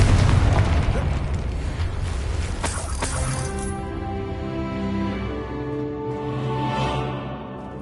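The Confringo fire spell from Hogwarts Legacy sets off a loud booming explosion, followed by a crackling, ringing magical tail that slowly fades out.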